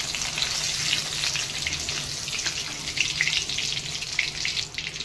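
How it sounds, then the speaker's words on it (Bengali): Steady, bright sizzling of cumin seeds frying in hot oil, continuous and close, with small crackling pops throughout. "আর জিরেটা ভাজা হয়ে গেছে, তেল বেরিয়ে গেছে।"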